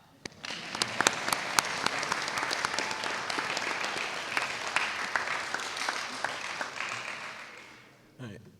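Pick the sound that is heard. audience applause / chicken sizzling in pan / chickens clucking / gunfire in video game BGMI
audience applause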